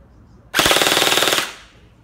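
An HK UMP45 airsoft blaster with a Gen8 gearbox fires one loud, close full-auto burst of about a second, a rapid even chatter of shots that stops abruptly after a quiet lead-in.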